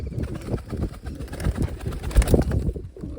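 A pair of pigeons perched close by coo in low, rolling murmurs, with soft fluttery rustles mixed in near their young chicks.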